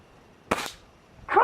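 An air rifle fires pellets at a toy tank, giving one sharp crack followed by a short ringing tail. A second burst of noise comes near the end.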